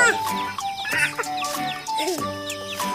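Backyard chickens kept by a young girl cluck and squawk in short, irregular bursts nearby, with several overlapping calls and a few faint chirps.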